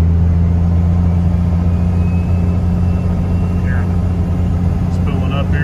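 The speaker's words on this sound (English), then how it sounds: "There's a little spool going up a hill here." A Cummins 12V diesel truck with a T3-flange turbo, 1.15 A/R exhaust housing and billet compressor wheels climbs a hill, its loud steady engine drone carrying a thin rising turbo whistle, with a voice murmuring underneath.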